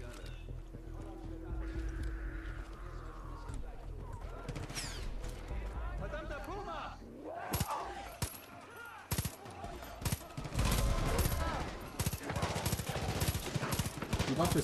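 Weapon fire in Far Cry 5, bursts of gunshots and machine-gun rattle growing dense in the second half, with someone talking in German over the game.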